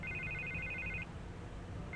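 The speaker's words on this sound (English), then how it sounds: "I can't get the phone to stop ringing." A telephone rings in Batman The Telltale Series, an electronic trilling ring lasting about a second, a pause, then the ring starting again, moderately loud over quiet background hum.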